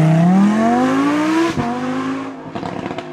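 A car with a naturally aspirated engine pulls away hard, its engine note climbing steadily in pitch, then dropping at a gear change and rising again with a rougher, fluttering tone, loud and close.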